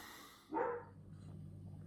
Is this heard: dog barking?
yes